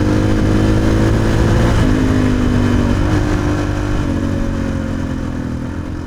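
A motorcycle fitted with a GET ECU by Taco Moto Co rides past at moderate speed, its engine droning steadily close by with a rise in revs midway, then easing slightly toward the end.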